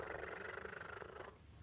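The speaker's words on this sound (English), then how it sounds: "When cats get real happy, they'll start purring." A contented black farm cat purrs up close, a soft, steady rhythmic rumble lasting just over a second before trailing off, quiet and alone.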